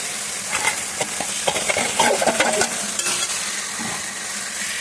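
Mashed potatoes being stirred and fried in an oily spice masala for a vegetarian dish, with steady close sizzling and repeated scraping stirs of a spoon against the pan.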